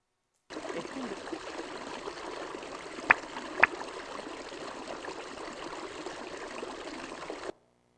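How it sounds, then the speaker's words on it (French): Water in a natural stream flows with a steady, even rushing hiss that holds constant throughout, with two brief sharp clicks midway, fairly faint and alone without voices. "Le cours d'eau"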